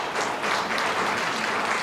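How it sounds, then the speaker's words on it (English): A forum audience for county supervisor district candidates applauds steadily, a dense continuous wash of clapping from many hands with no pauses. "Can we have a round of applause for our candidates,"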